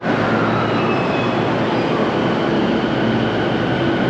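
Steady loud rumble of a train in Tokyo, Japan, likely a metro or rail car interior, with continuous broadband wheel and track noise and faint tonal hums throughout, no voices.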